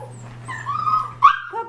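Shepadoodle puppies whimper and yip in thin, rising cries, a few short whines close by over a steady low hum, with no talk.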